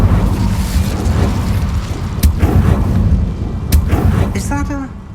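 An Incendio fire spell is cast in Hogwarts Legacy: booming, whooshing magical bursts and sharp impacts over rumbling game ambience, with a voice speaking among the effects.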